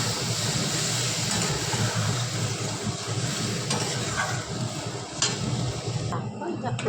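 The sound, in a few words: water added to frying masala, sizzling and stirring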